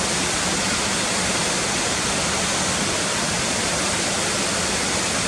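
Cotter Force waterfall pouring steadily, a dense, constant rushing roar of falling water that fills the scene evenly from start to finish, with no voices.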